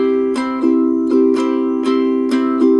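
An acoustic guitar chord is strummed in a steady down-down-up-down pattern, with bright, ringing strokes repeating evenly and close by, and no voices.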